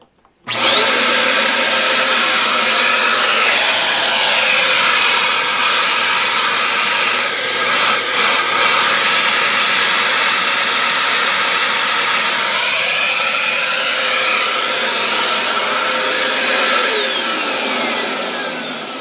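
A vacuum cleaner motor spins up abruptly and whines at a high, loud, steady pitch, running continuously with slight wavering in tone.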